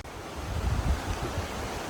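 Water flowing at the top of McArthur-Burney Falls, a steady low rushing wash with soft surges, heard alone at moderate volume.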